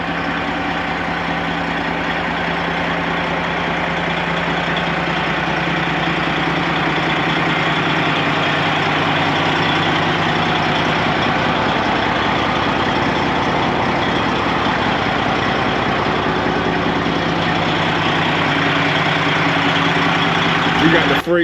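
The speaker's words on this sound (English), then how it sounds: "We got the freight shaker sitting idling right now, letting it warm up." A Detroit diesel truck engine idles steadily as it warms up on a rainy day, a loud, constant low rumble that holds unchanged throughout.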